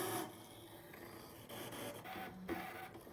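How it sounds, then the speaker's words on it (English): A Brother Scan n Cut machine cuts leather with a faint, steady mechanical whir and soft scraping, quiet and continuous. "And now it's cutting."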